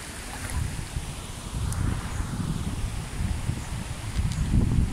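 Strong river current rushing around a wader's feet in a shallow river on a hot summer day, a steady loud broadband wash with wind buffeting the microphone.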